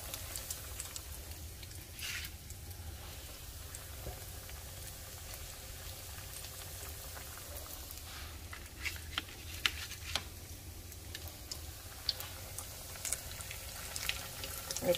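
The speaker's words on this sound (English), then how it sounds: "I guess this would be considered a shallow fry." Potato croquettes shallow fry in a pan of oil with a faint, steady sizzle and scattered soft pops and crackles, heard close and quiet with no talking.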